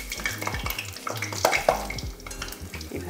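Eggplant fritters (beguni) frying in very hot oil on a medium-low flame, with loud bubbling sizzle and repeated clinks and scrapes of a utensil against the pan.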